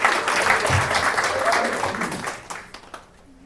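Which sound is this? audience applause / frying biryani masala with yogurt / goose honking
audience applause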